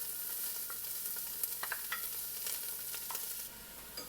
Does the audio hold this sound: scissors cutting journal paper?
no